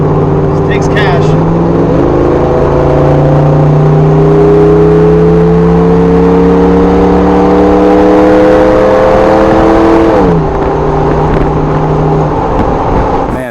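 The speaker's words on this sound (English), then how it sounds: "I couldn't speak in this car because it's so windy and loud" Loud, steady engine drone of an LS-swapped Jeep Wrangler with strong wind rush as it drives, shifting pitch partway through; a voice talks over the noise.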